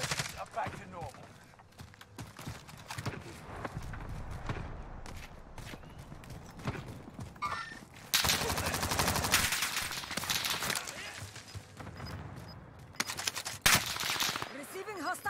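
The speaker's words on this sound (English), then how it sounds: "Receiving hostile fire" Hostile gunfire in Call of Duty Warzone on Rebirth Island: bursts of automatic rifle fire and scattered shots, fairly near, with louder stretches of rapid fire, under occasional game voice lines.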